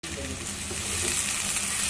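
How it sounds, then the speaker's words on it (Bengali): Chopped onions hit hot oil and sizzle loudly and steadily at close range while frying for a rui fish curry, a constant crackling hiss that builds slightly. "এবার দিয়ে দিচ্ছি পেঁয়াজ কুচি, দিয়ে আমি এগুলোকে ব্রাউন করে ভেজে নিব।"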